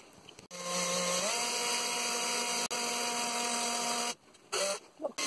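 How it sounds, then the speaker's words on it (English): A power drill bores into wood while an IKEA Komplement cabinet is built into a hamster cage: a loud, close, sustained whining motor whose pitch climbs as it spins up, then stops, followed by a few short bursts. "I'm just going to put a bit of tape on my drill bit there, so I don't drill too far."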